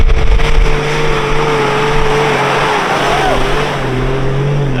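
A car engine pulls hard in third gear through soft sand while crossing the Simpson Desert in Australia, a steady loud drone with rising pitch under wind and rumble.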